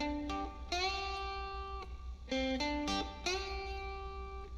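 Blues guitar lick in G position, a beginner-level phrase with a string bend: a few sustained plucked notes with one gliding upward pitch, clean and fairly quiet with no talking.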